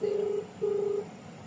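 Two steady electronic ringing tones, each lasting under half a second, separated by a short gap, followed by faint quiet hiss.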